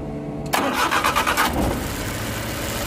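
Suzuki Multicab fuel-injected engine with a suspected misfire cranks briefly and catches, then settles into a steady, close idle running alone.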